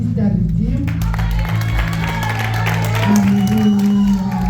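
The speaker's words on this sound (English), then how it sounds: "And can we all clap hands for Sister Redeem?" A church congregation claps and cheers together, with voices and shouts mixed into the steady applause.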